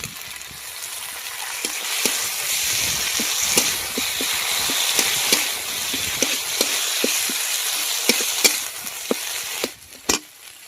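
Masala with dried chili paste and chopped tomato is sautéed in a pan for a koi fish curry, a steady close sizzle broken by regular clicks and scrapes of stirring, without talk.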